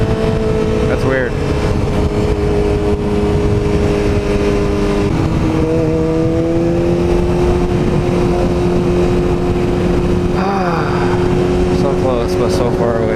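A Yamaha R6 sport motorcycle with a Vortex chain and sprocket kit runs under way near 7,000 RPM, a loud continuous engine whine rising and shifting in pitch with gear changes and wind noise.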